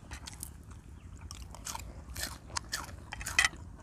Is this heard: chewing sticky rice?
yes